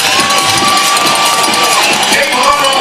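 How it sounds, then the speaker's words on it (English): A large college football crowd at Johnny Unitas Stadium cheers and roars after a long play, a loud, sustained wall of shouting with a whistle tone and an announcer talking over it. "that play goes 81 yards, and Tavon Austin has electrified the crowd here at Johnny Unitas Stadium."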